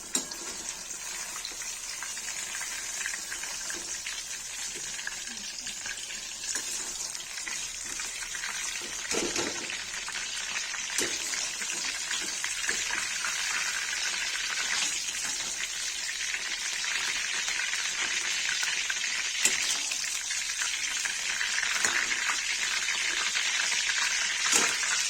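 Potatoes frying in hot oil in a home kitchen while a Kashmiri wedding-style yellow paneer and eggplant curry is prepared, giving a steady, dense sizzle that runs the whole time with a few brief clatters and no talk.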